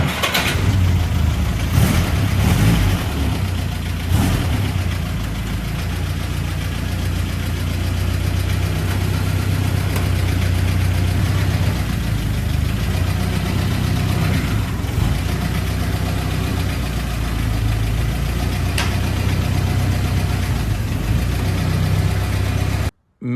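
A Willys Jeep engine runs on a cold day before a test drive, a steady close rumbling idle with a few revs early on, continuing loud and even until it cuts out abruptly at the end.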